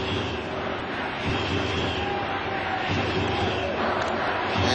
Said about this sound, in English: The crowd out in left field are chanting the name Toritani, Toritani over and over again.